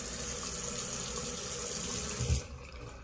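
Steady rush of tap water running into a sink while washing the face, a continuous close hiss with a brief splash near the end before the flow softens.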